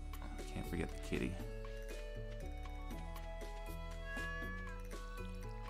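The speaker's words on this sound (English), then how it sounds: "I can't forget the kitty." Cat meowing in the Stardew Valley farming video game, a couple of short meows around the first second, set against steady game music with someone talking over it.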